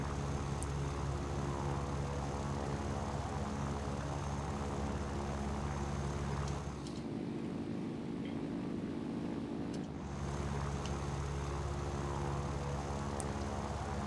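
A Yak-9U propeller fighter in War Thunder drones steadily and loudly for the whole stretch, with a steady engine hum and tonal harmonics. The roar dips and thins briefly in the middle before returning at full strength.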